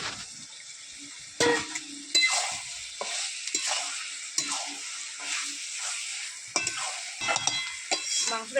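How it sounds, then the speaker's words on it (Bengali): Potatoes and chicken stirred and sautéed in a pan for a village-style chicken curry, a steady sizzle broken by repeated scraping strokes of a spoon against the pan, close and fairly loud with no talking. "ভালো করে কষে নেবো দশ থেকে পনেরো মিনিট ঢাকা দিয়ে রেখে দেবো"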